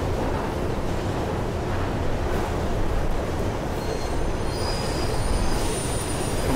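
Train rolling along the tracks in the video game Mirror's Edge, a steady loud rumble of wheels with high metallic squealing rising near the end.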